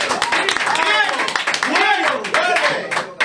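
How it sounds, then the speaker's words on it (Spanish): An audience claps loudly and steadily to welcome a guest on stage at a political event, with the applause mixed with overlapping voices and shouting from the crowd. "Recibámoslo con un fuerte aplauso,"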